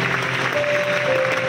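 An audience at a leadership seminar in an Islamic boarding school claps in a dense, continuous burst of applause, loud and even throughout the short stretch, with no distinct voices.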